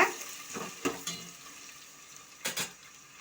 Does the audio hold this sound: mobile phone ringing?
no